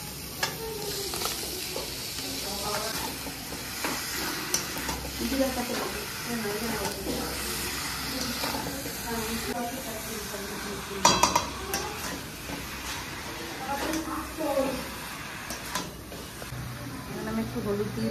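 Spices frying in a pan for chicken mughlai, then minced chicken going in, with a steady sizzle, stirring scrapes and occasional clinks of a utensil on the pan while someone talks throughout.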